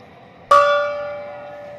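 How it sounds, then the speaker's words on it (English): A home run gong at a Dodgers–Orioles baseball game strikes once with a sharp metallic attack, then rings on in a long, slowly fading shimmer, loud and alone. "That's his 8th home run of the year, and the home run gong has appeared."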